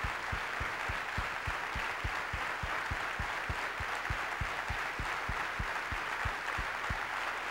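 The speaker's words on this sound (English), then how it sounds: "Terrance, Scott, and Tommy, I ask you to please stand and give them one last round of applause." An audience stands and applauds three honored heroes at a dedication ceremony: a dense, steady wash of clapping from a sizable crowd, sustained and even throughout with no voices over it.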